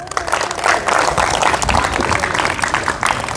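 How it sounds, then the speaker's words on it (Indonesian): A church congregation breaks into loud, sustained applause during an Indonesian sermon, a thick wash of many hands clapping together from start to end. "Mana tepuk tangannya ini?"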